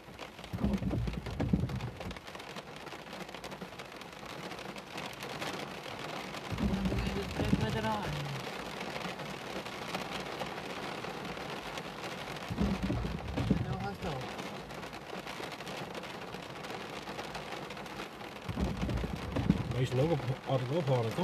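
Thunderstorm with heavy rain in Epen, South Limburg, a steady outdoor rain hiss throughout with several deep rolling thunder rumbles that swell and fade, and faint voices in the background.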